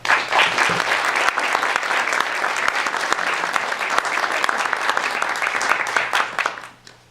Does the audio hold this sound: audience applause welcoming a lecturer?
yes